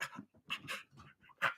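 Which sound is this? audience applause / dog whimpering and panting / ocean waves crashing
dog whimpering and panting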